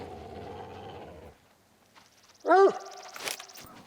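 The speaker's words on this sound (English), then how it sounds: "That wasn't a coyote. Bobcat." A bobcat call in the hunting game theHunter: Call of the Wild, a sudden loud harsh yowling cry after a stretch of low rumble and near silence, followed by a brief rough noisy burst.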